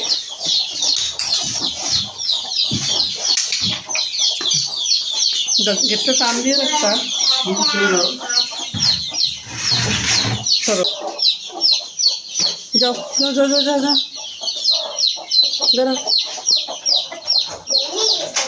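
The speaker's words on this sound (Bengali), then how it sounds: "বাসায় সেই মুরগিগুলো ছেড়ে দিলাম" Hens cluck repeatedly close by while people talk over them, with a steady high chirping of other birds in the background.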